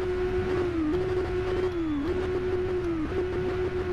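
A Kawasaki Z1000 motorcycle engine in the racing video game RIDE on PS4 drones loudly and continuously, its pitch dropping briefly at each of three gear shifts before climbing again.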